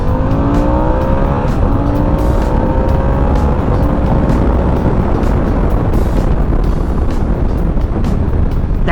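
A Harley-Davidson Sportster motorcycle races around corners on a track, its engine a loud, continuous close roar with rising and falling pitch as it accelerates and shifts.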